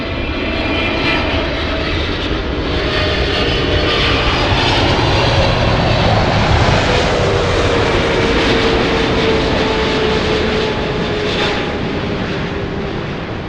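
A large China Southern airliner on approach to land at LAX, a steady loud engine roar with broadband rumble that swells slightly near the middle and holds throughout, no voices.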